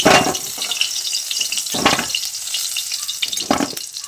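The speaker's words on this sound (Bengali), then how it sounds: "এই করলাগুলোকেও তেলে দিয়ে ভালো করে ভেজে নেব।" Bitter gourd pieces frying in hot oil in a pan, a steady loud sizzle throughout, with a few brief stirring or clattering bursts and no voices.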